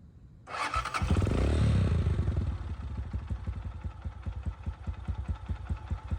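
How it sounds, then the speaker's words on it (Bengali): A Taro GP 1 motorcycle engine cranks and catches with a loud surge, revs briefly, then settles into a close, steady idle with a rapid rhythmic putter and light mechanical clatter. "আমি আমার বাইকটাই একটু স্টার্ট দিচ্ছি ওকে সো আমি আমার বাইকের সাউন্ডটা আপনাকে একটু শোনাচ্ছি"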